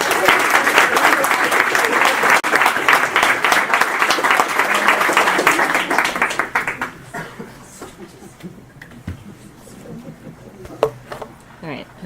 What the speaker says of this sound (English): So join me in a round of applause for her and for Gia.